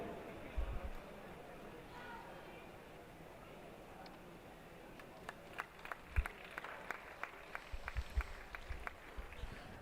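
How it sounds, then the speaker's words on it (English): Faint, scattered clapping rises from spectators at a swim meet as the last swimmers finish, sparse sharp claps picking up in the second half over a quiet, echoing pool-hall background. "Let's cheer our last ones in as Lily comes in."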